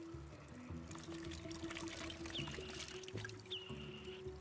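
Water poured onto a seed in the video game Axel & Pixel, a soft continuous pouring wash under looping game music and chirpy tones, fairly quiet, with no voices.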